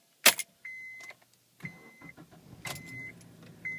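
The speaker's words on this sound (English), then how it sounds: "Okay, car started." A manual-transmission car is started in neutral with the clutch pushed in: a quick rattle of keys, repeating warning chimes, then the engine turns over and runs steadily close by, with no talking.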